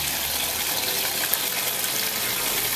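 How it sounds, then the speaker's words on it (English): Water gushes steadily and loudly from a hose or tap while poinsettia plants are watered, a continuous close splashing rush with no break. "Time to water the plants."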